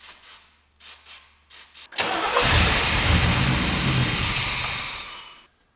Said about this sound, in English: We are at the point where we did get the engine running, and it actually does sound pretty good.